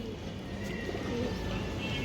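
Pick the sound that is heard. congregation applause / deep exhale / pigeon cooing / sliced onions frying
pigeon cooing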